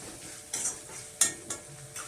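Onions frying in a pan for liver pepper fry give a soft constant sizzle broken by several sharp scraping strokes of a spoon stirring, close and alone.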